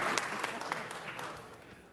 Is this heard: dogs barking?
no